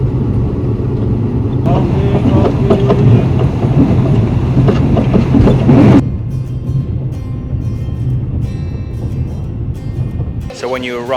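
Overnight sleeper train from Bangkok to Koh Samui rolling on rails, a steady close low rumble with rhythmic rail clatter filling the cabin, muffled voices heard in the background.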